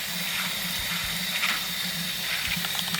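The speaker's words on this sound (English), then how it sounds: "make sure you wash the beans off with real hot water" Hot tap water runs steadily over pinto beans being rinsed in a sink, a soft continuous hiss and wash with faint patters, close and fairly quiet, without talk.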